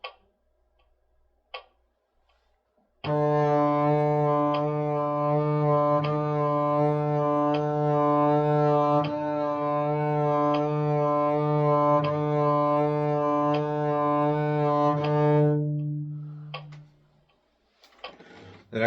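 A bowed double bass sustains a low note while its vibrato pulses in quick, even sixteenth-note groupings, steady and close for roughly twelve seconds, with a few small taps before and after.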